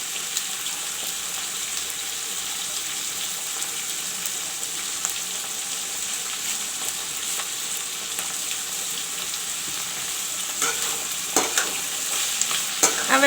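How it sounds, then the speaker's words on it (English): Onion frying in oil with curry leaves for a chicken curry, a continuous close sizzle with stirring clinks that grow busier near the end. "I will let the onion fry."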